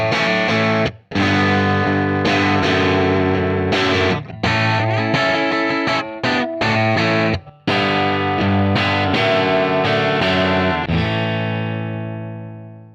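Raw distorted electric guitar through a JDM45 amp on its green channel, miked with a 57 into a 16-ohm load, plays loud sustained chords and riffs with brief stops and a final ringing chord that fades out.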